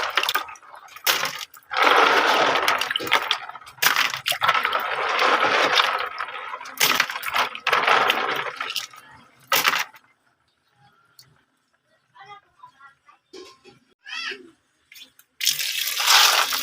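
Water poured and sloshed over freshly gathered clams in a container to wash and soak them, loud splashing and rushing bursts broken by a quieter stretch of small clinks and drips before the pouring resumes.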